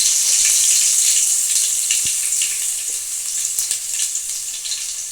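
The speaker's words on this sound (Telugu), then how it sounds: "నాలుగు ఎండుమిర్చి కూడా వేసుకుంటున్నాను" Four dried red chillies and onion paste fry in hot oil for Telangana-style sambar, giving a bright, hissing sizzle that starts loud and eases slightly, with a few soft clicks and no voices.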